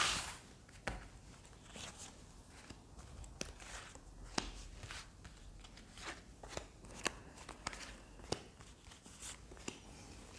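A deck of tarot cards is shuffled by hand close up. There are quick, repeated papery riffles and flicks in an irregular rhythm, with no speech.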